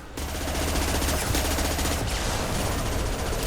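Rapid gunfire in the Mass Effect 2 video game, a dense, loud stream of shots with no pauses, lasting the whole short clip.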